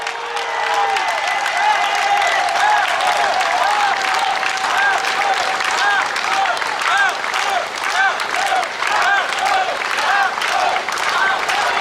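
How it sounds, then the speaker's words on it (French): Outdoor protest crowd against a Rockwool factory applauding a mayor, with loud sustained clapping and crowd noise running throughout, with cheers and voices mixed in. "Vous pouvez l'applaudir"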